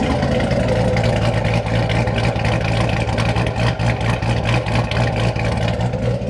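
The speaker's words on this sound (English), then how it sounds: "So this is the C7 that we cammed with the RPM cam and all that." A cammed Chevrolet Corvette C7 V8 with an RPM cam and stock torque converter idles nearby, giving a loud, steady, deep rumble with a choppy, pulsing lope throughout and no talking.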